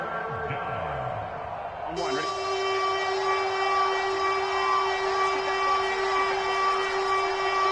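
Referee whistle in a PS4 football video game, a sustained shrill tone that begins partway through and holds steady over crowd noise and commentary.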